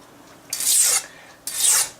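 A kitchen knife is drawn twice across a sharpening stone in two slow, even rasping strokes, close and clear with a brief pause between them and no talking.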